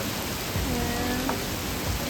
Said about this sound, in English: it's raining really hard here